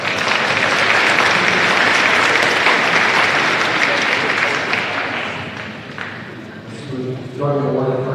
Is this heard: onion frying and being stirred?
no